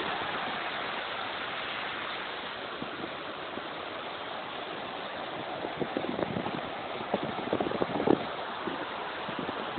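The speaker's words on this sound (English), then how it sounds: "Surf is up, surfers are out." Ocean surf at New Smyrna Beach during a Christmas Day surfing competition: a steady broadband wash of breaking waves with a few louder crashes toward the end, heard from a distance.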